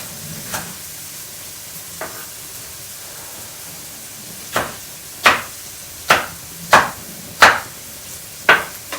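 A knife chops food on a board with sharp, separate strikes, sparse at first and then a quicker run of about six loud, close thuds. A soft sizzle lies underneath.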